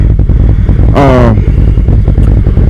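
Harley-Davidson CVO motorcycle fitted with an S&S 132 Stage 4 big bore kit, its engine rumbling loudly and steadily up close, with one short rising rev near the start.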